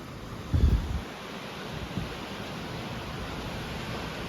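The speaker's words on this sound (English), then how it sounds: "there is a pretty cool waterfall here." A waterfall on Waiparous Creek gives a steady, broadband rushing roar that fills the whole clip, with a short louder thump near the start and no voices.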